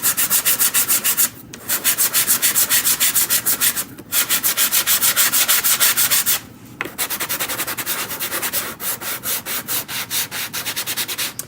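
Sanding a handmade wooden 3D tree craft: steady, rapid back-and-forth rubbing strokes, loud and close, broken by three short pauses, with no talking.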